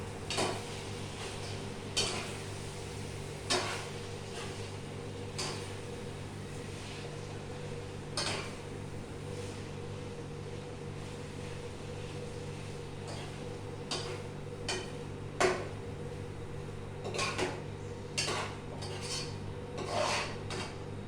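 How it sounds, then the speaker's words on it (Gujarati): Schezwan noodles get tossed and mixed in a pan with salt and black pepper powder, giving a steady low scraping and rubbing under repeated sharp clinks and taps of utensil on metal, with no talking. "મરી પાવડર, બ્લેક પેપર પાવડર એ નાખી દઉં, અને આપણે એને ઉપર નીચે કરીને મિક્સ કરી કાઢીએ"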